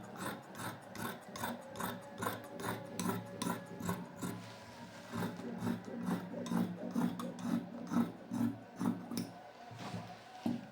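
Scissors snip repeatedly through fabric while cutting out the second side of a sleeve pattern traced from a ready-made garment, a steady run of close, crisp rasping cuts with no talking.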